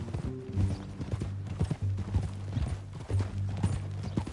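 Horse hooves clip-clop in an uneven walking rhythm in the video game Red Dead Redemption 2, fairly close, with a low mechanical hum running underneath.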